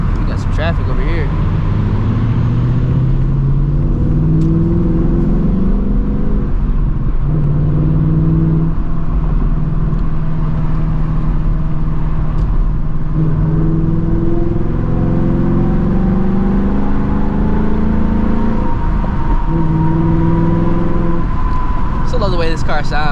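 A 2024 Ford Mustang GT with a Gen 4 Coyote V8 gives a continuous deep engine rumble from inside the car, held steady and loud with gentle rises in revs and no talk over it.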